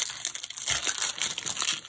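A 2020 Topps Big League baseball card pack wrapper is torn and crinkled open up close, giving a continuous crackling, crumpling rustle of thin foil-like plastic.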